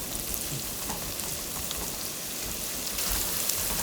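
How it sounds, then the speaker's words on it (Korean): Chopped green onions fry in oil to make scallion oil, giving a steady, dense, rain-like crackle of close sizzling that swells slightly toward the end, with no voices. "이제 살살살살 이렇게 파가 끓기 시작해요"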